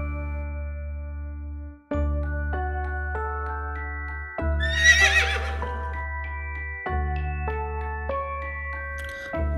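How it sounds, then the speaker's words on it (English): A horse gives one short, shrill whinny midway through, rising over steady background music tones, with no other animal sounds around it. "Horse."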